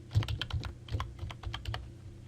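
Quick clicks of a password being typed on a computer keyboard, a close, brisk run of keystrokes with short pauses, no voices.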